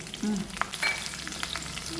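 Green and dried chillies dropped into hot tempering oil with urad dal, giving a steady close sizzle with a few faint stirring scrapes, no voices.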